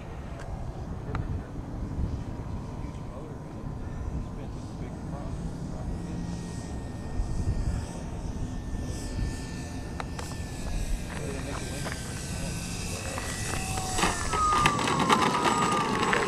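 FMS 1400mm Corsair RC model airplane flying with a thin, distant motor whine over outdoor wind noise, while people talk throughout.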